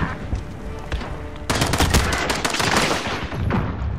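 Gunfire from Call of Duty Modern Warfare in a Shoot House match, a loud, dense burst of rapid automatic shots that starts abruptly and keeps crackling over steady game background noise.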